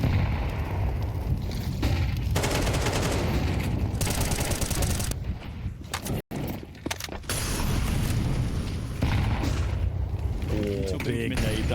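A grenade explosion and bursts of gunfire in a Counter-Strike 2 match at a professional esports tournament, loud and dense, briefly dropping out midway before the shooting resumes, with caster commentary running over it.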